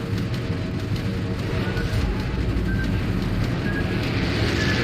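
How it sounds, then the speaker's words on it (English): Continuous droning aircraft engine noise from planes in World of Warships, a dense steady roar with a faint whine, sustained throughout over the naval battle's ambient rumble. "Plane sounds."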